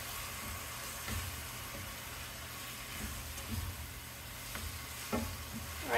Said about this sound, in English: just cutting the heat down low so that it's just simmering